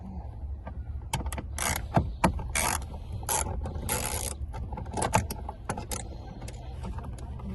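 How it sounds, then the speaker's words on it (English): Number 10 socket wrench ratcheting on bolts holding a dash panel in a Mitsubishi Pajero, irregular bursts of clicks and scraping knocks, close with no talking. "we use a socket, number 10, just like that"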